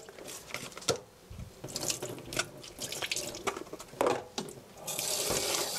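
Tap water runs onto a block of tofu at a sink, splashing and trickling unevenly as it is handled, with a fuller steady gush near the end.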